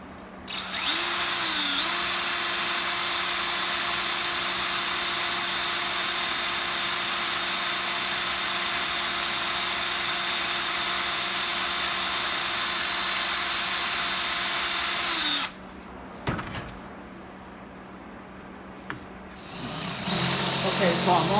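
A power drill with its bit boring through glass whines steadily at high speed for about fifteen seconds, then cuts off, leaving quieter handling noises and a brief restart at the end.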